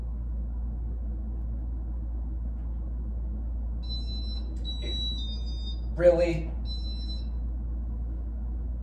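A ceiling fan's remote control beeps, a Bright Brass Casablanca California Zephyr fan indoors, giving a few short high electronic tones around a brief spoken exclamation, close and clear over a steady low background hum.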